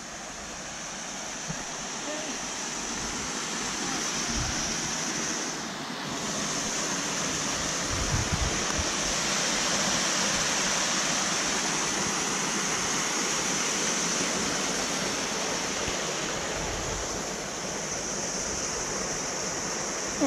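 Water rushes steadily through a canal lock on the Caen Hill flight in Wiltshire, a loud, constant broadband roar with no breaks.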